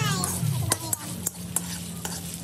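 Chicken pasta is stirred in a frying pan, with a utensil scraping and clicking in a brisk irregular rhythm over a steady sizzle, close up and with no talk.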